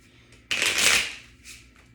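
A quick burst of cards being shuffled, a loud riffle lasting about half a second, then a softer second riffle shortly after.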